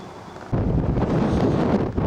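Strong wind buffets the microphone on an outdoor public viewing gallery of an observation tower in Canberra, a low roaring rumble that surges in after a quieter half-second opening and keeps blowing steadily and close.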